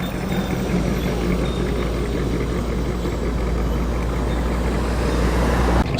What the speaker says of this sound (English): Series 1 XJ going into the public car park.